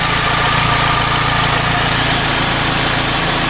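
Turbocharged 2.4-litre engine swapped into a Saturn Sky, idling right after its first start: a loud, steady, close rumble with even vibration and no voices.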